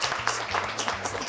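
Studio audience applause on an Azerbaijani comedy talk show, a short burst of clapping heard close and continuous alongside a low musical hum.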